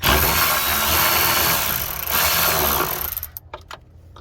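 A power tool loosens 8mm bolts on a 2017-2021 Ford F250 6.7L diesel during fuel filter work. It runs loud and continuous for about three seconds, then cuts off, leaving a few short clicks and knocks.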